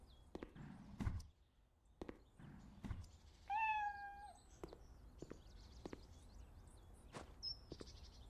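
A cat in the video game Cafe Owner Simulator gives a clear rising-then-falling meow midway, set among scattered sharp clicks and taps in an otherwise quiet room.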